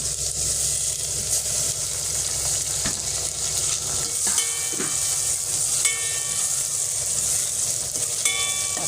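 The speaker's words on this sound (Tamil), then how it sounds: "தக்காளி வதங்கட்டும்." Tomatoes sauté in a hot pan for a black pomfret fish curry after mustard seeds and fenugreek have been tempered. A steady close sizzle and hiss carries on throughout, with faint scraping stirs.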